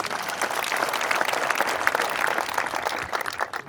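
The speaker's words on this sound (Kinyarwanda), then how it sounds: "Mukomere Imana amashyi" Sustained applause from a crowd at a gathering, dense clapping that holds steady and loud for a few seconds before tapering slightly at the end.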